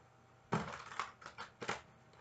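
Tarot cards being shuffled by hand, a few quick papery riffling bursts with crisp attacks, close and fairly quiet, with brief pauses between them.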